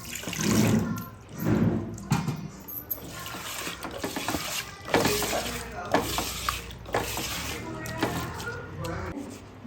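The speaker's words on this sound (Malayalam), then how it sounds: "പിന്നെ പുളി പിഴിഞ്ഞ വെള്ളം ഒഴിക്കും" Tamarind water is poured into a mackerel curry as it cooks, making several uneven pouring and splashing bursts close by while someone talks over them.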